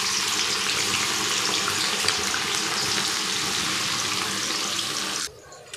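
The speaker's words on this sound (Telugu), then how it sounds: "వాటిని వచ్చేసి డీప్ ఫ్రై చేసేద్దాము." Cut okra pieces deep frying in hot oil over a high flame, a loud, steady, close sizzle that cuts off abruptly near the end.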